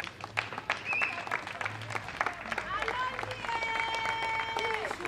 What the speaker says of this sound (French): Si vous pouvez acclamer pour eux.